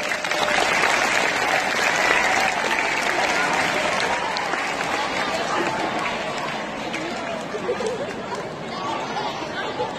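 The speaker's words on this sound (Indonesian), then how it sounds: "Diberi aplaus yang meriah dulu untuk ketiga calon." An audience at a school student council candidate presentation applauds the three candidates. Dense, loud clapping mixes with crowd chatter and holds steady for the full stretch, easing slightly toward the end.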